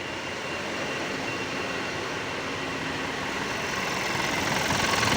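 A Euro 4 Mitsubishi Canter truck's diesel engine runs close by in a workshop, a dense steady roar that slowly grows louder as it revs, with no talk over it.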